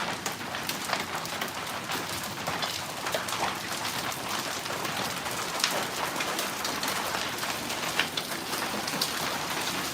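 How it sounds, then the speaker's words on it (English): Dense, steady marble-size hail clatters on a hard surface, a continuous hiss of sharp impacts with occasional louder strikes, a bird faintly cooing in the background. "It's like marble size hail."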